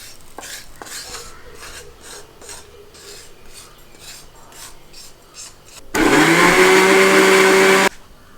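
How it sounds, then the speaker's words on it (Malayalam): A mixer grinder grinds garam masala for a chickpea curry, starting with a few seconds of rubbing and scraping, then bursting into a loud, steady, high whine for about two seconds before stopping abruptly. "ഇനി ഇത് നന്നായിട്ട് അരച്ചോട്ട് വരാം."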